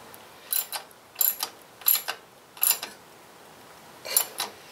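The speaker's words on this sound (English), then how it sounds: "So let's get the ratchet on this guy" A ratchet tightens a bolt on a 2016 Indian Scout Sixty motorcycle, clicking in five short bursts of a few quick clicks each, close and crisp against a quiet background.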